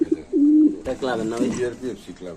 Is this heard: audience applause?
no